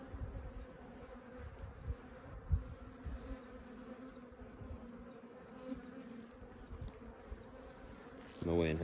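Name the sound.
bees buzzing in a dead hive, mostly drones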